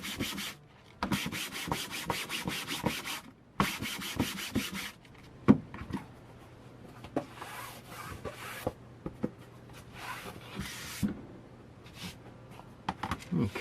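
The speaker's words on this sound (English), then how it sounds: "I want to sand this down before I trace onto it. Here's a block of 220 grit sandpaper." Sanding a canvas with a 220 grit sandpaper block: close, dry rasping strokes in quick repeated bursts, pausing briefly before resuming, then lighter, sparser rubbing.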